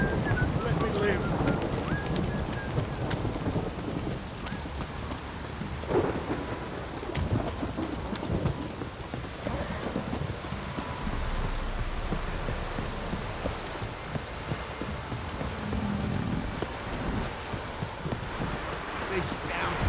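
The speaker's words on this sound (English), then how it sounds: "This downpour's a bastard" Heavy rain pours steadily in The Witcher 3, with low rumbles of thunder rolling underneath, continuous and moderately loud throughout, while voices talk over it at times.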